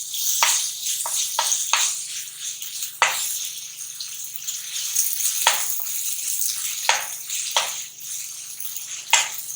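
Onion with garlic ginger paste sizzles steadily in a pan, a continuous bright hiss of frying punctuated by occasional clicks and scrapes of stirring.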